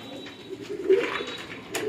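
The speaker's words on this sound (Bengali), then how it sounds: "এগুলা সিরাজি, এগুলা সব আমাদের নিজের ঘরের কবুতর" Sirazi pigeons kept in a home loft cooing nearby, a couple of soft low coos over quiet background with no speech.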